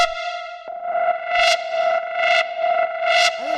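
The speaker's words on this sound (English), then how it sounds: "it's made with operators. So what it really is it's just a saw wave" Synth drone built in Ableton Operator from a saw wave with light FM from a second oscillator, buzzing steadily with rich harmonics while bright filtered swells rise and fall about three times over it, distorted and echoing.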